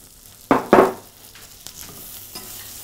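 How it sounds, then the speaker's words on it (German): Flour and oil cooking in a pan for a roux, going into a gratinated cauliflower dish; two loud, close stirring scrapes and sizzle bursts near the start, then a quieter steady sizzle with a few faint scrapes. "Und jetzt wollen wir das Mehl ein bisschen schwitzen lassen."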